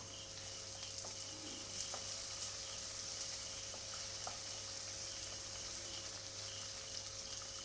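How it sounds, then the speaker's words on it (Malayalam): Onion sautés with okra in a pan, giving a soft, even sizzle at low level with faint occasional stirring ticks, heard alone over a constant background hum. "അപ്പോൾ സവാള നന്നായിട്ടൊന്ന് വാട്ടിയെടുക്കണം, വഴറ്റി കൊടുക്കാം നമുക്ക്"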